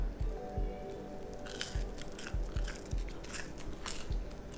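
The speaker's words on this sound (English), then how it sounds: "Let's try first the fries without any seasoned salt." Crisp baked Checkers/Rally's seasoned fries from the grocery store being bitten and chewed, a series of close, sharp crunches at irregular intervals.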